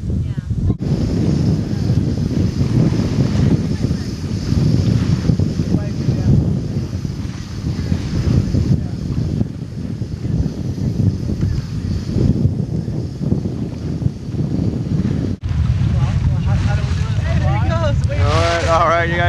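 Strong wind buffets the microphone over rushing water and hull noise from a sailboat under sail at sea, a few miles offshore, with faint voices near the end.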